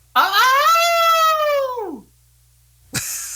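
A person imitates a howl with a single long, loud, rising-then-falling wail held for nearly two seconds before trailing off, followed by silence and then a brief noisy burst.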